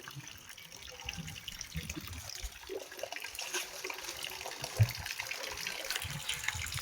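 Water running steadily from a tap pipe, a continuous rushing hiss with occasional splashes, moderately loud and close.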